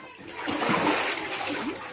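Water from a badly laid bathroom drainage line splashes and trickles steadily nearby, soft and continuous, with a faint voice briefly underneath.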